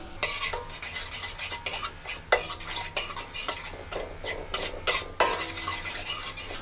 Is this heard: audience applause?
no